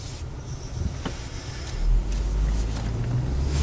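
A car pulls away and drives on a street, with a low, moderate engine and road rumble that swells slightly partway through, plus some faint cabin clicks and no talking.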